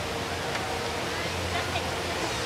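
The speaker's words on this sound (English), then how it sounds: "The largest indoor waterfall in the world. In a terminal." The world's largest indoor waterfall, inside Terminal 1 of Singapore's airport, gives off a steady, even rush of falling water, soft and distant, with faint background murmur in the open hall.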